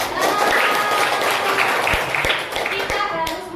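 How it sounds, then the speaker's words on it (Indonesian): Students in an Indonesian classroom clap for a group that just finished presenting, loud close applause running throughout with some voices mixed in. "tepuk tangan sekali lagi untuk kelompok 1 yang sudah presentasi"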